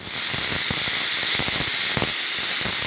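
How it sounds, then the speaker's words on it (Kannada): A steady, loud hiss of escaping steam fills the whole stretch, with faint rattling pulses underneath, like a pressure cooker venting. "ಇವಾಗ ಕುಕ್ಕರ್ ವಿಜಿಲ್ ಹಾಕ್ತಾಯಿದ್ದೆ."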